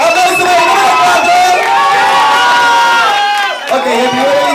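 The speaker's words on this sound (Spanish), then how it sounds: "¡Aplauso por el número 4!" Loud, sustained crowd cheering and shouting from a television variety-show audience for a contestant, a steady roar of many voices throughout, easing briefly near the end before rising again.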